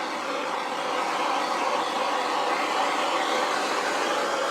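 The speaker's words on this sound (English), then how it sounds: "I'm going to torch to get rid of the bubbles in the paint." A hand torch passes over freshly poured fluid acrylic paint to pop surface bubbles, giving a steady, close, even hiss that holds without a break for several seconds.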